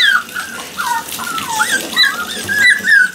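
A Mini Aussiedoodle puppy whimpers and whines in repeated high, wavering cries while being bathed, loud and close, with faint water sounds beneath.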